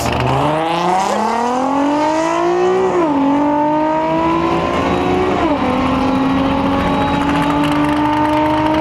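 A loud car engine, an Infiniti Q50 at a drag strip, revs high and climbs through the gears, pitch rising with two sharp shifts, roaring close by with no talking.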